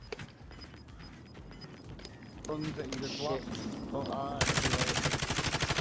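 Rapid automatic gunfire from an Uzi in a battle royale video game, bursting loud and fast near the end after a stretch of mixed game noise and shots, with someone talking over it.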